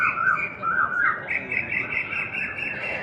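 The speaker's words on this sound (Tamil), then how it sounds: "இந்த குயில்கள் வேறு கூவுது" Koels calling repeatedly during the rainy season, their loud, clear whistled calls overlapping in quick succession over a steady background hum, with no one talking.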